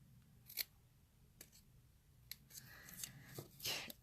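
Scissors snip a notch in paper, giving a few sharp, quiet cuts spaced apart with light rustling between them, close and soft in a quiet room.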